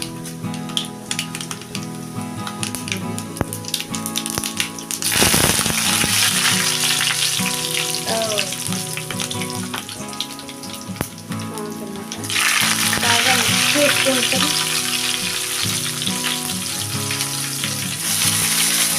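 Oil sizzles and crackles steadily as fish fries in a pan, close up, growing louder partway through, with occasional stirring clinks.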